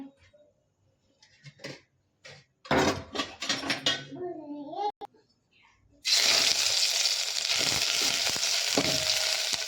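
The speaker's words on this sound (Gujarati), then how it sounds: "તો હાલો હવે આપણે વઘારીએ" Garlic, ginger and onion hit hot oil in a pan for a Gujarati tempering, a loud, steady sizzle that bursts up and runs on continuously after a stretch of clinking utensils and quieter kitchen sounds.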